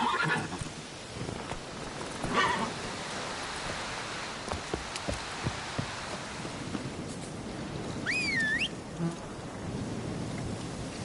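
Geralt's horse Roach whinnies loudly in The Witcher 3 amid buzzing insects, with soft hoof clip-clops and thuds as the horse sets off.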